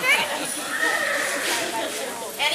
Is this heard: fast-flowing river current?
no